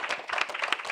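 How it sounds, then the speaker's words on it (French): Audience applause at a literary talk with an author, a brief burst of many hands clapping together, close and fairly loud, continuous across the moment with no voices. "Je pense qu'on peut vous applaudir une nouvelle fois."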